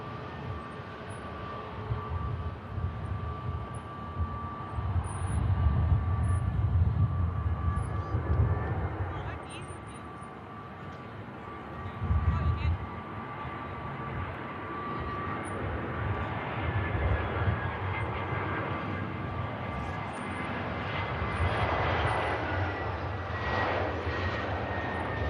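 An Airbus A320 on final approach into Manchester Airport produces a broad low engine rumble that rises and falls over about twenty-five seconds, with a fainter whine above, while someone talks intermittently over it.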